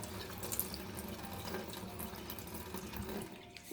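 Tap water runs steadily into a sink, a continuous splashing hiss that eases off slightly near the end.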